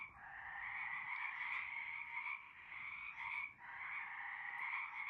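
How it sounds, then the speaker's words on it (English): Frogs in a greenhouse at sunset fill the air with a dense, continuous chorus of rapid croaking and trilling, steady and moderately close with brief dips in intensity, no voices. "what the greenhouse sounds like just as the sun is setting with the frogs in the"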